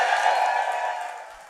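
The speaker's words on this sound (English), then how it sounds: "let me hear the old folks cheer" Audience at a live motivational talk show cheers and whoops together, a steady, dense roar of many voices held at a loud level for a moment before easing slightly.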